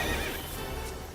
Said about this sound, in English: Hey, it's a horsey.